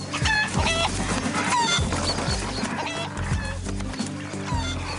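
Chickens in a hen house cluck and squawk busily, several birds overlapping in loud, close bursts for the full stretch, with no voices among them.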